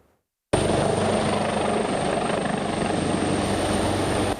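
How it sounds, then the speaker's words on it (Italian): Firefighting helicopters fly over a wildfire near Duino, their rotors a loud, steady, close roar that starts abruptly after a moment of silence and continues without a break. "Continui i passaggi dei 3 elicotteri che facevano la spola"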